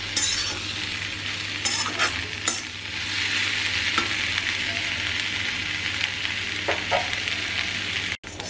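Sweet corn frying in a pan while being stirred gives a continuous close sizzle broken by repeated scraping and clattering strokes of the spoon.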